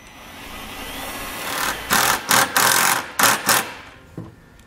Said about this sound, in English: I'm just going to drill right into the bottom of the sheet metal right here